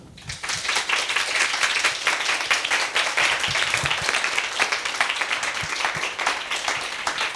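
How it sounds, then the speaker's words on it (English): Steady round of applause from an audience at a literary reading event in a reading room, even and continuous clapping at moderate level throughout. "Can we have a final round of applause?"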